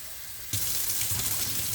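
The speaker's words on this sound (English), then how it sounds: "We're going to give it a rinse." Tap water suddenly gushes on to rinse a batch of sprouting seeds, a steady broad splashing stream that starts abruptly and runs on without any speech.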